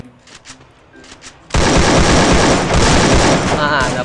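Heavy gunfire from the video game Sigma erupts abruptly and stays loud and continuous, like sustained automatic shooting. Quieter player talk comes before it.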